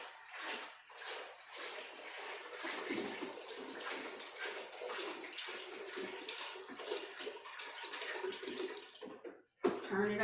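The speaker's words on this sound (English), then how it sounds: "So I just poured mine into the pot" Water poured into a cooking pot while making ginger root tea, a steady splashing gush that runs loud and continuous for about nine seconds before stopping, with a brief knock at the end.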